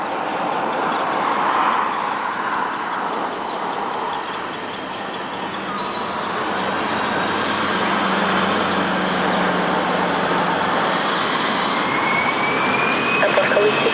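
An airliner on takeoff at Lisbon Airport, a loud sustained jet engine roar with broad rumble that holds steady and swells slightly throughout.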